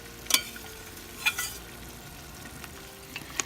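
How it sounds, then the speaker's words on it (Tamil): Mutton pieces sauté in a Chettinad-style biryani gravy in a pan, a faint low sizzle broken by a few sharp clinks and scrapes of stirring, quiet and close, no talk. "அதை எடுத்து இந்த கிரேவியில் போட்டு இதையும் கொஞ்சம் நேரம் நல்லா வதக்க போகிறோம்."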